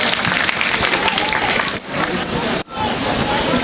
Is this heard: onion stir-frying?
no